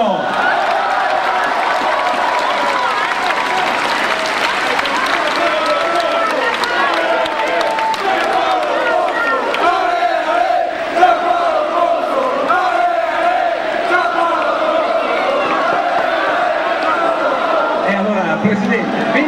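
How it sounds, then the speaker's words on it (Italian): A crowd at the Udinese 2009/2010 season presentation applauds and cheers steadily for club president Giampaolo Pozzo, a dense, continuous wash of clapping and voices that holds at an even, loud level throughout. "Signori, un grande applauso e grande calore per il presidente Giampaolo"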